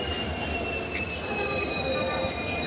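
A passenger train hauled by a WDP4 diesel locomotive near Sakleshpur rolls along in a steady, loud rumble, with high metallic wheel squeal ringing over the continuous running noise throughout.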